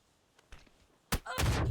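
Counter-Strike grenade clattering and bouncing a couple of times softly, then a loud explosive burst near the end with sustained roar.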